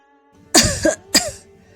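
Two close, harsh coughs, the first rough and drawn out with a catch, the second shorter, over a faint steady hum.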